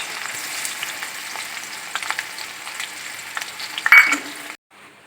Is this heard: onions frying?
yes